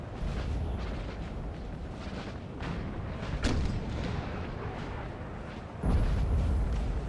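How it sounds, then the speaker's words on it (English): Artillery bombardment on a Napoleonic-era battlefield in Napoleon Total War: a continuous heavy rumble of distant cannon fire with a sharp blast near the middle and a louder surge of booming near the end. "Wuttemberg's artillery is targeting most of the Austrian forces."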